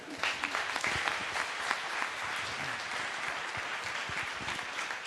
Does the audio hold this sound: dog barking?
no